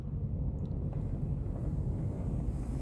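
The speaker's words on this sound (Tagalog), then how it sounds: "malakas pa rin ang hangin." Strong, stormy wind blows in a steady low roar that buffets the microphone, continuous and loud with no speech.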